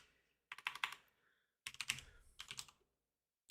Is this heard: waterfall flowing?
no